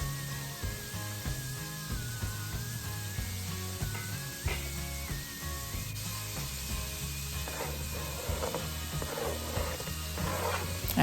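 Vegetables sautéing in a pan for a cheese soup give a soft, continuous sizzle mixed with scraping and stirring noises under low background music.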